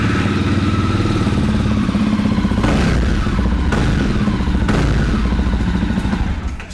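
A Jawa motorcycle engine runs loud and close with a throbbing idle, broken by a few sharp blips of the throttle, with no talk over it.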